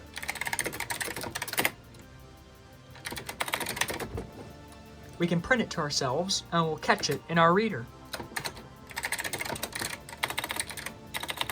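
Typing on a computer keyboard while driving an IBM mainframe over dial-up, with brisk bursts of clicking keys at the start and end and someone talking in the middle.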